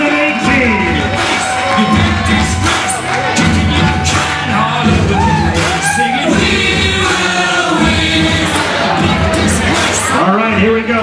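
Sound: banquet crowd cheering for class champion

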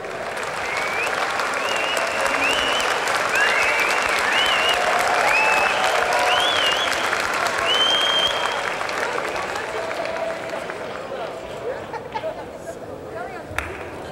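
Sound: crowd applause at wrestling match

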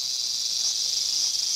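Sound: cicada chirping in an anime trailer

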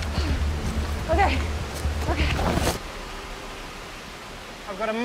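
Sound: massive waterfall

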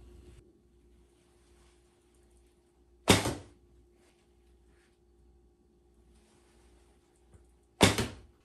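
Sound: bow shots, arrows hitting target

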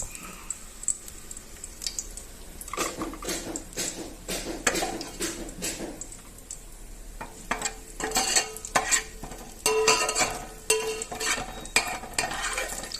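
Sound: frying sliced onions in hot oil

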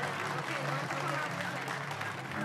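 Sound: audience applause at a pageant

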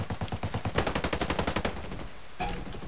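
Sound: gunfire in Ghost Recon Breakpoint video game

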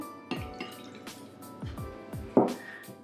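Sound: water poured into a bowl for making gelatin

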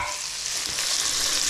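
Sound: garlic sizzling as it goes into the pan

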